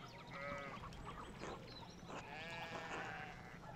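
Sheep in the video game Pentiment bleat repeatedly in a small flock, several wavering calls overlapping against quiet ambient background, with no talk.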